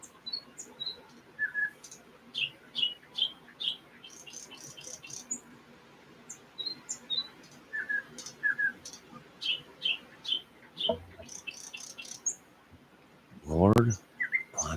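Wild birds chirp outdoors near a feeding spot with fresh fruit and peanuts, repeated short bright tweets in bursts and scattered trilled calls, fairly close, with a brief low thump near the end.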